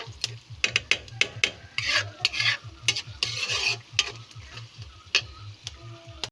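Shrimp paste frying in rendered pork fat: steady sizzling with repeated sharp ticks and scrapes of a spatula stirring the pan, close and fairly quiet, with no talking.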